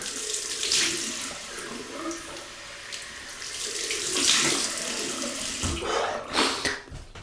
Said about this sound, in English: Cold water rinse, which will be lovely and welcome.